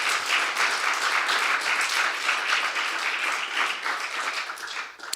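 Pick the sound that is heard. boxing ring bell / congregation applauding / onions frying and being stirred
congregation applauding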